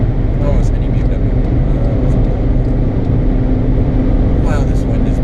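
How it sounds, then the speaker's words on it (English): Heavy, steady roar of wind and road noise inside a Skoda Fabia at high speed on the Autobahn, loud and constant throughout, with a voice speaking over it. "Wow, this wind is bad."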